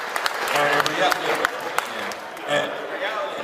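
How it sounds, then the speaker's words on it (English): Applause at a community lecture event, scattered clapping with crowd murmur and a voice talking over it, moderately loud and continuous. "I'm going to give yourself a round of applause."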